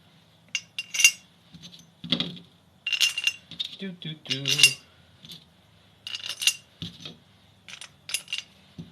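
Small engine cylinder head bolts clink and rattle as they are handled and threaded in by hand during a teardown, a series of close metallic chinks and taps with brief pauses and some speech between.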